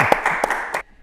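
Audience clapping at an Indonesian talk show with a rock guitarist guest, a short burst of several claps over about a second, fairly close and loud, then cutting off abruptly.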